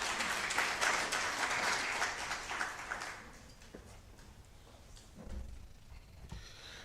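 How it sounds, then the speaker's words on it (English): Conference audience at an African women theologians gathering clapping after a speaker, a moderate round of applause that fades out after about three seconds, leaving quiet room noise with a few faint knocks. "Give her another round of applause, please."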